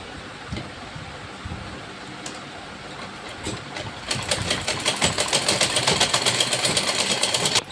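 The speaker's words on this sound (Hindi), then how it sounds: "इलास्टिक को पहले मैं इस तरह से सिलाई लगा दूँगी।" Elastic is stitched onto an Afghani salwar on a sewing machine, which starts midway and runs in a fast, even, rattling rhythm after a quiet start with faint handling noises.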